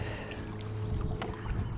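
An electric outboard motor runs on a fishing boat out after predatory fish, a steady low hum with water and wind noise around it, close and continuous.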